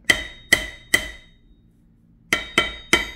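A hammer taps a bare VW crankshaft six times, each strike ringing out clearly with a bright metallic tone that decays. Three evenly spaced taps come first, then a pause and three more, close and loud with no talk.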